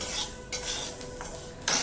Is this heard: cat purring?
no